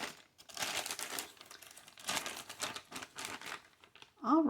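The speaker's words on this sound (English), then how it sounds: "Now, the books come wrapped in tissue paper." Tissue paper wrapped around books crinkles and rustles in steady bursts through the whole stretch, near and fairly loud, with a brief sharper crackle at the end.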